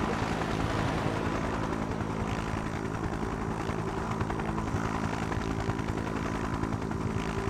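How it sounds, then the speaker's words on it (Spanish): Helicopters arriving in the video game Just Cause 3, a steady loud rotor and engine drone with constant chopping pulses that stays level throughout, no voices. "Como los helicópteros aparecen."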